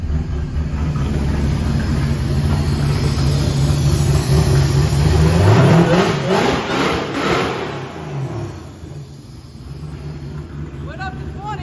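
A 1700hp supercharged blower engine revs cold, loud and close, with deep rumbling idle building into a strong rising rev around the middle before dropping back to a rough lope, while people talk over it.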